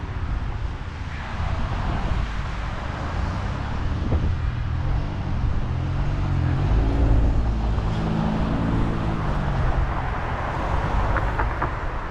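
A white Hyundai car passes on a Toronto road near a cyclist, its engine and tire rumble swelling to a close, loud pass midway, then fading, over a constant low wind and traffic background.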